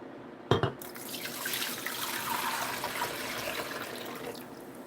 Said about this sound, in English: I'm going to pour the coconut juice